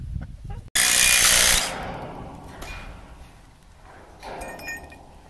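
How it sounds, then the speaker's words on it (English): Power tool removing bolts from a corn crib on an 1840 farm: a loud close whir of under a second, then quieter handling and clanks, a fainter second burst and chickens clucking nearby. "We're taking off all of the bolts and clips that hold it in place."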